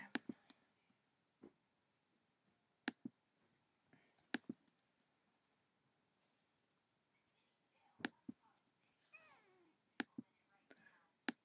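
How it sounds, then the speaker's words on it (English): A cat meows a few times, faint and somewhat distant, amid sharp clicks and light handling noises in a quiet room. "It's my cat meowing."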